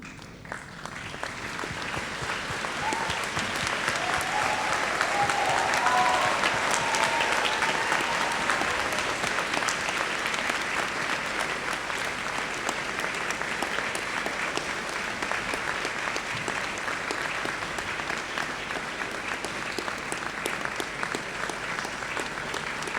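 Graduating students and guests at a university graduation ceremony applaud together in a long, steady round of clapping that swells in the first few seconds and then holds at an even level, with no talking over it.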